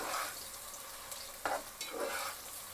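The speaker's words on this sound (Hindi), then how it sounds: "ऑयल के गर्म होते ही वीवर्स हम इसके अंदर प्याज शामिल कर देंगे।" Finely sliced onions sizzle in hot oil in a pan, a soft continuous frying hiss with brief louder bursts and scrapes as they are stirred.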